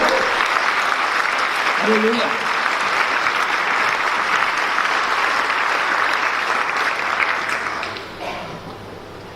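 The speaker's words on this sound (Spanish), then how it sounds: "Den un aplauso al Señor" A church congregation breaks into loud, sustained applause for the Lord during a Spanish-language service. A voice shouts over the clapping early on, and the applause tapers off near the end.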